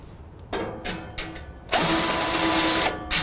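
A power driver whirs in short bursts and then a longer sustained run while backing Torx fasteners out of the back panel of a Rittal TS8 cabinet, close and fairly loud, with no voices.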